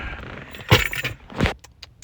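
Keys jangle as someone gets into a car, with two distinct clattering bursts followed by a few lighter metallic clinks, close and fairly loud.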